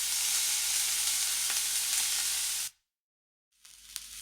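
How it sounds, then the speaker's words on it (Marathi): Garlic and curry leaves fry in hot oil with a loud, bright sizzle that cuts out to silence, then returns more faintly with a few pops. "लसूण छान सोनेरी रंगावर परतून घ्यायचा. मग आपल्याला यामध्ये कढीपत्ता टाकायचा आहे. कढीपत्ता इथे छान तेलामध्ये तळला गेला पाहिजे."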